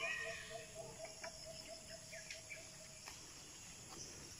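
Birds call faintly in the open air of a monkey wildlife park, a few scattered chirps over a steady insect and cricket drone with quiet ambient hiss.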